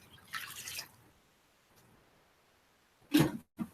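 Sauce poured from a can into a dish of uncooked noodles for freezer cooking, heard as a short wet splash and glug at the start, then quiet, then two louder wet plops near the end.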